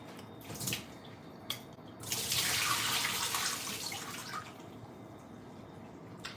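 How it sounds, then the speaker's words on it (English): Water pours off washed eggplant pieces into a kitchen sink in a steady splashing rush lasting a couple of seconds, framed by a few light clinks and drips, close by with no speech. "I'm going to drain this water off just like this."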